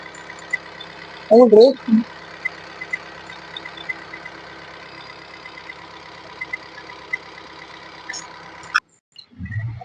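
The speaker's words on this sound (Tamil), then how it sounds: "இன்ஜின் ரன்னிங் ஆகிட்டு இருக்கு, சவுண்டு கேளுங்க" A Honda diesel car engine idles smoothly with a steady low hum, and a brief voice-like sound breaks in early on.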